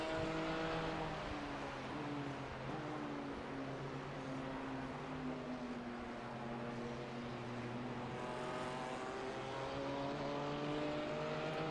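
A race car laps the track at Sebring during a 12-hour endurance event. Its engine carries as a steady, droning tone that stays faint and distant throughout, with no voices.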